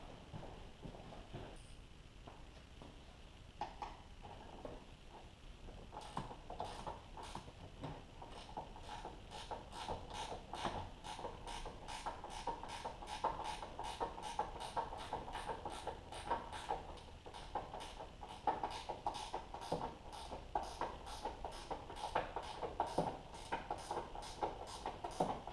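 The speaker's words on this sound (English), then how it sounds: "now we're gonna grab the ratcheting wrench and tighten those up" Ratcheting wrench tightening fasteners on Mountune Sport lowering springs on a Ford Fiesta ST, a long run of rapid, steady clicking that starts sparse and grows dense and even, close by with no talk.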